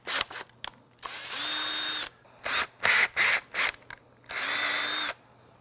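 A 1/4-28 tap is driven into a hole in a C5/C6 Corvette control arm, heard as a series of short power-tool whirs and ratcheting bursts of different lengths, broken by pauses, close and fairly loud.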